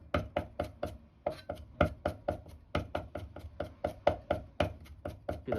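Kitchen knife rapidly chopping and mincing garlic and a crushed piece of fresh ginger on a cutting board, a steady run of sharp close thuds with no talk.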